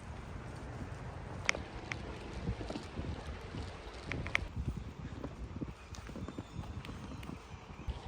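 Cows in Sweden running across the ground, their hooves making irregular, soft thuds throughout under steady outdoor wind noise, with no talking.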